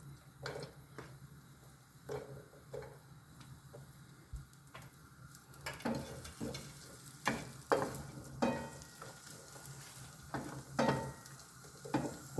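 Sliced onions frying in oil in a large pan, a soft background sizzle broken by repeated clicks and scrapes of stirring, growing a little busier and louder partway through.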